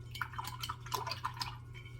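Water is gathered for watercolor painting and lets off a few faint, delicate drips and light trickling taps, close and quiet, with nothing else heard.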